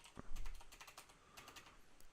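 A computer keyboard clatters with quick, uneven bursts of key presses, close and fairly quiet, with one heavier thump near the start and no speech.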